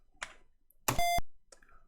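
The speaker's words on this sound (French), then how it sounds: "vous avez entendu? Ça a fait bip." A computer emits a single short electronic beep when a BASIC program prints the bell character CHR$(7). Soft key clicks come just before and after the beep, and nobody speaks.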